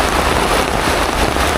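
Steady rain falls in Alas Roban forest, a dense, continuous hiss of drops on leaves and ground, close and even throughout with no voices.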